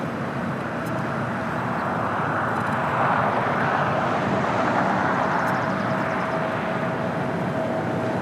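A Polar Air Cargo Boeing 777 arriving at LAX from Tokyo Narita makes a sustained, swelling broadband jet roar that peaks midway, loud and close.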